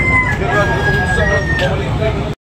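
A rooster crows once at a chicken market at Tabunok, Talisay, a drawn-out, close, loud call over a busy background of vehicle and crowd noise, cutting off abruptly.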